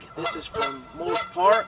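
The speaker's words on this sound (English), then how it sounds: "You can hear our friends, the Canada geese, making a lot of racket in the background." Canada geese at a lakeside park honk in a noisy, repeated chorus of loud calls close by, with a voice speaking briefly between the honks.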